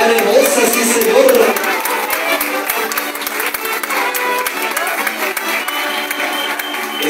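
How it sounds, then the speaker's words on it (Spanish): Audience applause and cheering for a mariachi at a tribute concert, a steady, dense crowd roar held at the same level from start to finish, with music still faintly audible beneath it. "Un aplauso para el mariachi de Yucatán hermosa, sí señor."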